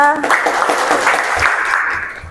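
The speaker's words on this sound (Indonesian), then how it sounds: "Oke, tepuk tangan buat teman kita." A classroom of students claps for a classmate's answer in a university lesson, a steady burst of applause lasting about two seconds after a brief voice at the start.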